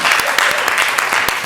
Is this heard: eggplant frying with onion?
no